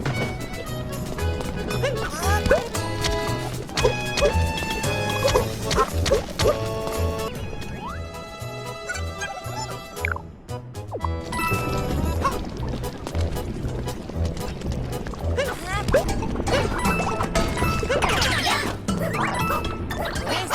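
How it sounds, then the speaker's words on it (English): Hammer blows smashing blocks of cheese in a colourful food-themed video game level, repeated sharp whacks and crunches over busy game music and effects, with a short quieter break midway. "Smashing up blocks of cheese with a hammer bro."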